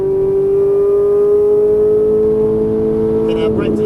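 A Ferrari 458 Italia engine pulls hard after an upshift, a loud, steady, high-pitched tone that rises slightly and holds close for a few seconds, with a brief rustle near the end.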